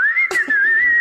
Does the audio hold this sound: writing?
no